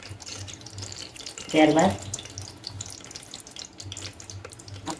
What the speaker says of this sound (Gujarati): સરસિયું સરસ એવું ગરમ થાય ત્યારબાદ એમાં આપણે જીરું એડ કરી દઈશું